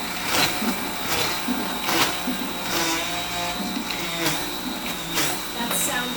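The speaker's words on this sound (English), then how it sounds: "You can't turn it off because then it refreezes and it'll break the blender." Loud, continuous blender roar with rhythmic grinding and rattling as ice is crushed, harsh and close throughout.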